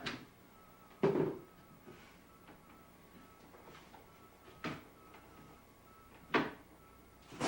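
A household refrigerator door is opened and shut, giving a few separate close thumps and clunks spaced out over several seconds against a quiet kitchen background.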